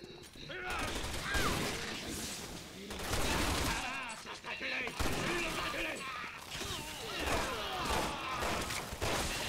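Rapid gunfire and action effects from the video game Resident Evil 6, dense bursts of shots and mechanical clatter with continuous excited talk over them.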